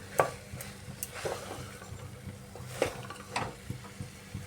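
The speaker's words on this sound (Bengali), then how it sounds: "আলু ছাড়াই বানাচ্ছি এইভাবে ভালো করে কষিয়ে নিতে হবে মশলার সাথে" Soybean and kidney bean ghugni, made without potato, is stirred and fried with spices in a pan, giving soft intermittent scraping and quiet sizzling throughout, with no talk.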